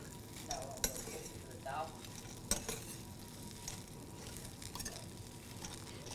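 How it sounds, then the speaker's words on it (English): Cereal mix toasting in a buttered skillet, a quiet sizzle under intermittent scraping and stirring clicks of a utensil against the pan, with a few sharper knocks. "You just kind of toast these in your skillet."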